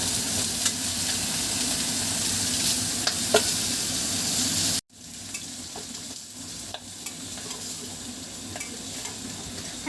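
Chicken hits a pan of lightly fried onions and sizzles loudly while being stirred, a close, steady hiss with scraping clicks that briefly cuts out and then resumes more quietly.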